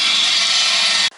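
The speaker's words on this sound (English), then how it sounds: "And that noise was a guy with like an old Massey Ferguson tractor." An old Massey Ferguson tractor drives a sawmill outdoors in Scotland, giving a loud, steady grinding roar that holds for about a second and then cuts off abruptly.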